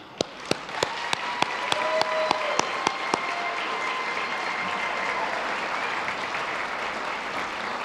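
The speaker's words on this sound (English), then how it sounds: "Let's give a long applause to Molson Coors." An audience at a chamber of commerce annual meeting applauds in honour of Molson Coors, a sustained wash of clapping throughout, with a few sharp, louder claps standing out near the start before the sound settles into an even, steady roar.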